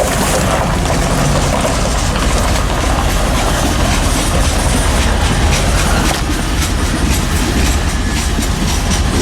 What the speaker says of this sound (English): these train things go right past the factory when they're doing all these tanks